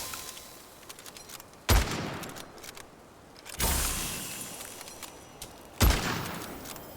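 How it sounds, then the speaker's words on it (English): Three heavy, booming high-powered gunshots from a gun in the video game Witchfire, spaced about two seconds apart. Each shot is loud and close, with a long trailing rumble and background game ambience in between. "You can just shoot the consecutive high-powered rounds, too."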